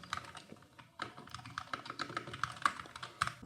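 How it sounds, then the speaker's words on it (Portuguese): Typing on an Akko Monsgeek FUN60 magnetic keyboard, a steady run of close, crisp keystroke clicks and clacks in quick irregular rhythm with no voices. "A sensação de digitação aqui nesse teclado é muito boa"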